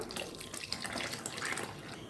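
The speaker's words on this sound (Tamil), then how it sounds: "இப்போ நம்ம மிச்சி சரை கழுவி அந்த தண்ணியை சேர்த்துக்கலாம்." Water from rinsing a mixer jar poured into a simmering tomato curry, a faint, brief steady splash and trickle of liquid.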